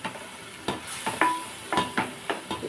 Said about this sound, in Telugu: ఇది కూడా రెండు నిమిషాలు మనం బాగా ఆయిల్ పైకి వచ్చే వరకు వేపుకున్నాము